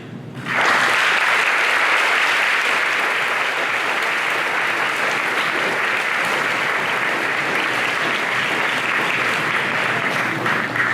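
A live student-event audience breaks into loud, dense applause for a guest speaker, starting abruptly and holding steady as continuous clapping for around ten seconds with no talk over it.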